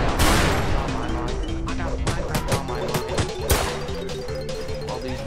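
A dense burst of gunfire in a VR video game crackles in rapid, repeated shots with sharp impacts, loud and close. A voice talks over the shooting throughout.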